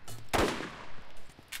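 A single loud gunshot rings out in the Borderlands video game, a sharp blast with a short fading tail, followed later by a fainter crack.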